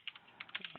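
Several quick keystrokes on a computer keyboard as a short note is entered into a software bookmark field, crisp and close, scattered irregular taps with no talking.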